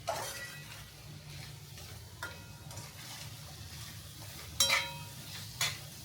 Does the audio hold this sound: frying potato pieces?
yes